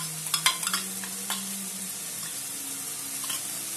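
A spice mixture stirred in a pan while cooking katla fish, with a few close scraping strokes and soft sizzling at first, then a quieter steady frying hiss, no voices.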